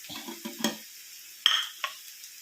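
Spiced pork fry with chilli powder and fennel seeds being stirred in a pan, a few short scraping strokes and light clinks over a soft sizzle, close and fairly quiet.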